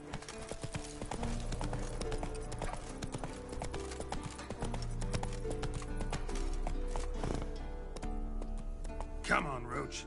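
Roach, a horse in The Witcher 3 video game, gallops with rapid rhythmic clip-clop hoofbeats over game music, ending with a whinny; a voice speaks alongside.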